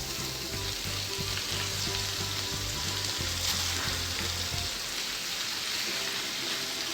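Spinach frying with minced meat in a pan, a steady close sizzle with soft stirring scrapes and a low rhythmic knocking through the first part, no talking.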